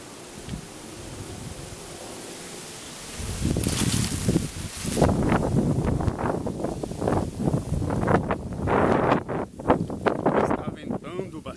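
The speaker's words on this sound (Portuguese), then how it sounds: "Está ventando bastante." Strong wind gusts rush and buffet the microphone at dusk on rocky high ground near Itu, Brazil, starting quietly and then roaring in uneven bursts.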